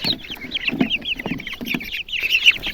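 A young chicken caught in a village garden gives rapid, bright repeated cheeps and clucky peeps, close and fairly loud, in quick irregular bursts without pause.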